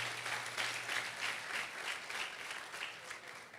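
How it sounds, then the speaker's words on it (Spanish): Applause from a congregation at a Spanish-language church worship service: a steady, dense clapping that runs at an even level for the whole stretch, with no talk over it. "Démosle un fuerte aplauso a Dios,"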